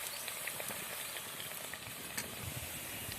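Dangar puris deep-frying in hot oil, a steady soft sizzle and crackle with small pops throughout, quiet and close, with no talking.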